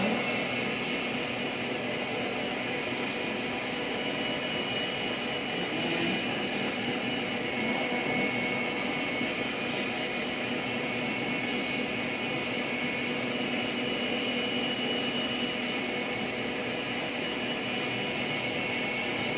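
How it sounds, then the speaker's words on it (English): An electric mixer whips banana maple cupcake frosting, a steady, loud, unbroken whir that holds level throughout with no voices. "Still whipping in that frosting."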